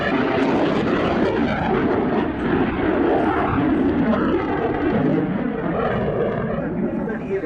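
Aircraft engines roar during an airshow stunt takeoff, a loud, continuous, broadband engine noise lasting the whole stretch with no break.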